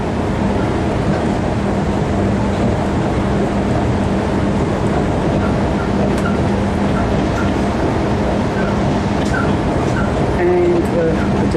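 A passenger train on the Gawler line in Adelaide rolls steadily as it gains on a freight train on the adjacent track, a loud continuous rumble with faint rail clicks and a voice talking over it.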